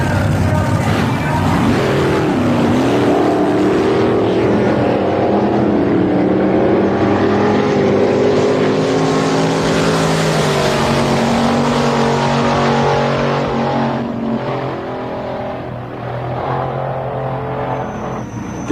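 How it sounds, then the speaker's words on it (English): A 1953 Kenworth truck powered by a big block Chevrolet engine, running loud and close in a steady, throaty roar, with the pitch climbing and holding as it revs, then easing slightly near the end. "1953 Kenworth body truck, powered by a big block Chevrolet engine."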